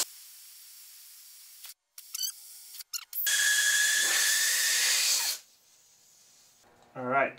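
Air rushes out of an off-road tire with its valve core removed, a loud steady hiss lasting about two seconds after some brief clicks and handling noises, then fading to quieter rustling.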